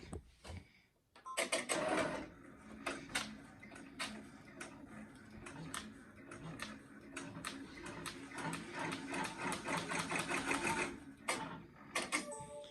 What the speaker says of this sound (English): It's ready to start embroidering, so let's see how this turns out.